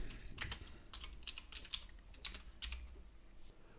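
Code typed on a computer keyboard, heard as close, quiet clusters of key clicks in short irregular bursts with brief pauses between, without any voices.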